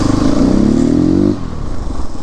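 Single-cylinder CrossX 300 motorcycle engine revving loudly nearby, a rapid throbbing burst that rises in pitch for about a second before dropping back to a rough idle.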